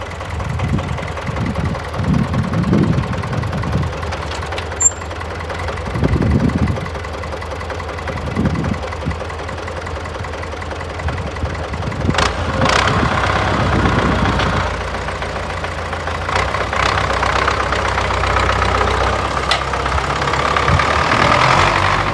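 An MTZ tractor engine runs steadily as it drives out to a field, a loud close diesel drone with some knocking and a few louder surges, no voices.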